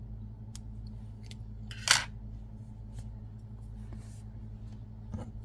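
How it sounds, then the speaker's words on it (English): Scissors snip through crochet yarn once, a single short crisp cut close by over a steady low room hum, with a faint second tick a few seconds later. "So grab your scissor, cut about 1 inch or so."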